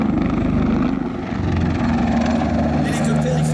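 A close, loud Tiger military helicopter, weighing 6 tonnes, drones with a steady rotor chop, filling the clip, while a voice talks over it.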